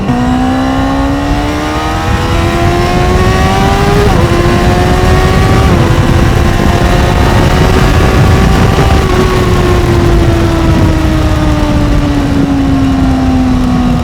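A Honda CBR600RR sport motorcycle being ridden at night, its engine droning loudly and continuously, with the pitch climbing slightly, dipping at gear shifts, then easing off as the rider cruises.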